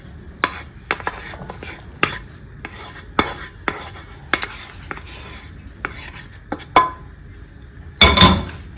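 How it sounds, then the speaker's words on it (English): Vegetables are stirred into a garri salad with a utensil, producing a series of soft, evenly spaced scraping clinks against the bowl, ending in a louder clatter. "Go ahead and stir it in."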